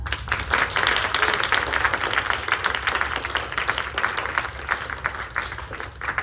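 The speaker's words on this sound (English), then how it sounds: "let's just give one more round of applause for Savannah" Audience applause at the end of a stage show, a steady dense wash of many hands clapping that holds throughout before thinning slightly at the end.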